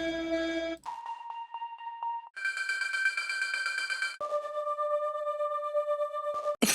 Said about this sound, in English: We even have tempo drones.